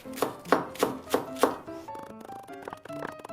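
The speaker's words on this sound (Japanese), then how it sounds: "まずは長ネギをみじん切りにしていきます" A knife mincing Japanese long green onion (naganegi) on a cutting board: four or five crisp, evenly spaced chops up close, then lighter, quicker taps trailing off, with no talk.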